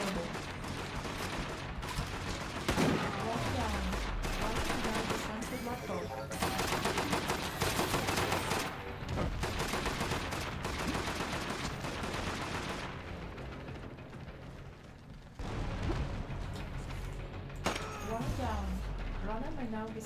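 Gunfire in the Death Garden video game, rapid bursts and repeated shots at close range over a busy game soundscape, with someone talking throughout.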